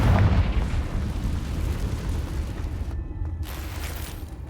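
A Confringo blasting spell explodes in a wizard video game, giving a loud, deep boom that rolls on as a continuous rumble for several seconds.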